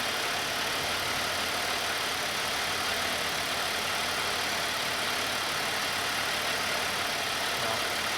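GM 3800 V6 car engine idling, a steady, unbroken mechanical drone with even texture from start to finish and no voices.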